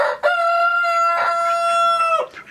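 A rooster crows once, close and loud, a single sustained, strongly tonal call lasting about two seconds, with a short rise at the start and a clipped fall at the end.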